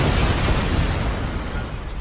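A jar of tannerite explosive set off by a rifle shot in a military shooting challenge, one loud broadband blast that rolls on and slowly fades as a rumbling decay.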